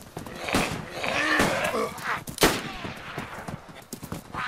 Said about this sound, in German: der schießt definitiv auch auf Menschen, nicht nur auf Zombies